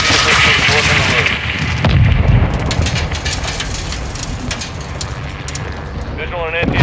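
Missile impact in the Modern Warfare II campaign, a close air support mission: loud, dense rumbling blasts and booming gunfire fill the whole stretch, with radio chatter running beneath the chaos.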